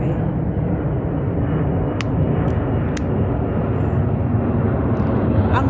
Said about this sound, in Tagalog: Ayan ang aeroplano.